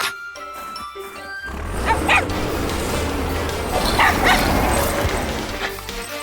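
A cartoon dog in a kids' animated show barks and yips loudly, with whimpers mixed in, over a noisy storm-like background after a brief musical opening.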